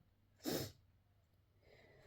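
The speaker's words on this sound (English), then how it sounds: "incoming and a sneeze going" A single sharp sneeze close to the microphone, followed by quiet breathing in an otherwise still room.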